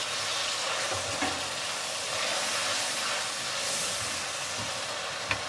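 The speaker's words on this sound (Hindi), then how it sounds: "हम इनको फ्राई करेंगे।" Potato pieces cut for aloo gobi fry in a pan with a steady, close broadband sizzle and crackle that runs throughout, with a few small stirring clicks and one sharp tap near the end.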